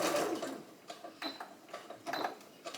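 A sewing machine stitches a quarter-inch seam on a blouse yoke, with a short burst of stitching followed by faint, intermittent ticking and clicking bursts, quiet and close.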